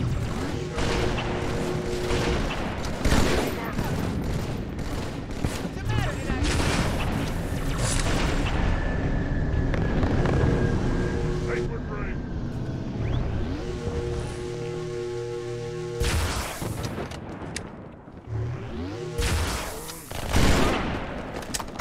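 Plasma weapons fire in the video game Halo 2, rapid bursts and booming blasts in a dense, loud firefight with mechanical clanks, intermittent pauses and a final cluster of shots.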